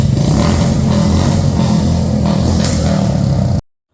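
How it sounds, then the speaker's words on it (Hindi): A loud motorcycle engine roars and revs steadily up close for a few seconds before stopping abruptly. "अभिषेक भाई ने अच्छी आवाज़ तो निकाली बाइक से"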